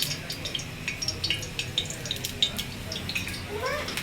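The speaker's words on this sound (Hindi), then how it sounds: "हसन अपना अंडा खुद ही तल रहे हैं" An egg fries in a home kitchen pan with soft, steady sizzling and crackling, quiet and close, and a few faint clinks of utensils.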